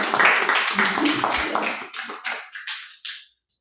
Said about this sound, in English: let's all recognize her with a big round of applause